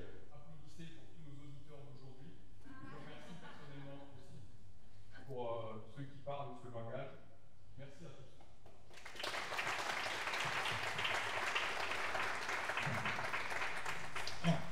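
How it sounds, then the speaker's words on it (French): Audience applause at a French technology demonstration event: speech runs for the first nine seconds, then a burst of steady clapping from the room takes over and continues to the end. "Applaudissez pour tous nos auditeurs d'aujourd'hui."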